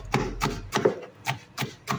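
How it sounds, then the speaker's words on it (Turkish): Peppers for bulgur pilaf are chopped with a knife on a board, five or six crisp, evenly spaced chops up close with quiet pauses between them. "Bulgur pilavımızın biberlerini doğruyor annem."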